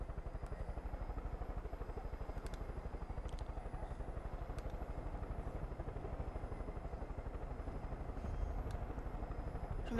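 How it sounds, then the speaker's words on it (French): A helicopter's rapid rotor chop thuds steadily throughout, with a faint engine whine above it and a few clicks, in the video game Far Cry 5. "Je vais mettre ici mon hélicoptère."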